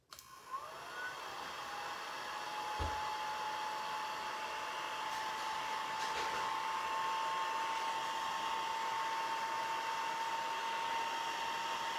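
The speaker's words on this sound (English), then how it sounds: "one quick zap with the dryer" A craft heat dryer switches on and blows continuously, a steady whooshing roar with a faint high whine, running alone for several seconds.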